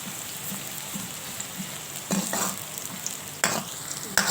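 Onions fry in a pan with a soft, steady sizzle, broken by a few sharper stirring scrapes and spatters, close up with no talking.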